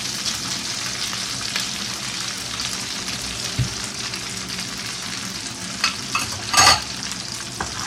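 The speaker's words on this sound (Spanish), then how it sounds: "los voy a cocinar junto con la salchicha" Soft chopped tomatoes and onion cooking in a pan alongside sausage, a continuous crackling sizzle with a brief louder stir or scrape near the end and no talk.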